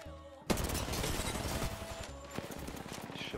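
Gunfire in Apex Legends erupts suddenly and runs on as a dense, loud fusillade of rapid shots, with a sharp burst standing out near the end.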